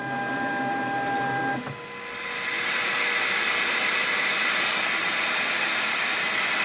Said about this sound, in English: There's a fan on the back there, fan on the side, and the fan on the hot end there.